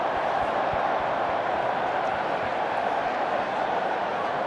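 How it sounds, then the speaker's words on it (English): A stadium crowd at Twickenham during a women's rugby union match, Barbarians against South Africa, keeps up a steady, dense roar that holds even throughout as it builds toward a Mexican wave. "the crowd are just working their way up towards a bit of a Mexican wave because they are having a fun time here at Twickenham this afternoon"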